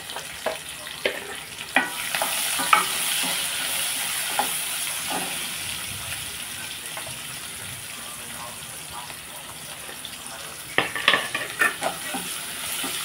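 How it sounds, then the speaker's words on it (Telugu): Onions and green chillies fry with curry leaves in a pan, a continuous soft sizzle broken by sharp scraping stirs of the spoon that cluster near the start and end, heard up close. "కొంచెం కరివేపాకు, ఇప్పుడు ఉల్లిపాయలు, పచ్చిమిరపకాయలు కూడా వేసుకోండి"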